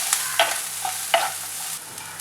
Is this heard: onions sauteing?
yes